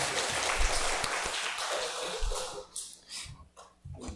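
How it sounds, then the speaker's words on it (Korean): A church congregation applauds during a Korean worship service, broad dense clapping that swells and then tapers into scattered claps, fairly close and with no talk over it. "다시 한번 하나님께 영광의 박수 올려드리겠습니다"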